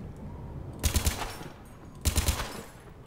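Two quick three-round bursts of rifle fire in the video game Mass Effect 3, a second apart, sharp and loud over a quiet electronic background.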